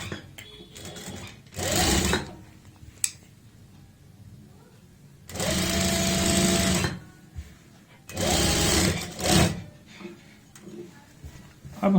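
A sewing machine stitches the fly of a pair of pants in three loud bursts of a second or two each, separated by quieter pauses with handling sounds.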